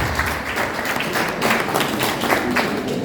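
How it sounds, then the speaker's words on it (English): A seated audience at a Nigerian competition and consumer protection commission event gives a guest dense, steady applause that fills the hall evenly from start to end. "Let's please welcome him with a big round of applause as well."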